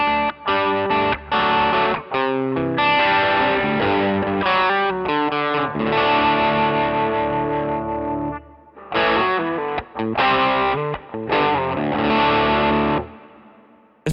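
An electric guitar plays through a JHS Notaklon fuzz pedal, giving a heavily distorted tone in chords and short riffs with brief pauses. Tone is thick and loud, with abrupt stops between phrases.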